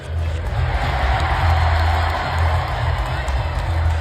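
A basketball crowd roars wildly at a Marquette Golden Eagles versus Villanova Wildcats game, a loud, sustained wall of cheering and shouting with a low hum underneath.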